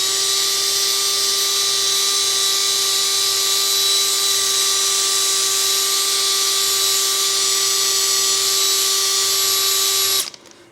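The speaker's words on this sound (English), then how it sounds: "a great tip using a pinstripe eraser to go in and clean that up" A pinstripe eraser wheel on a power tool strips sticky wheel-weight adhesive residue off a car wheel, a steady high-pitched whine running close and loud for about ten seconds before it cuts off.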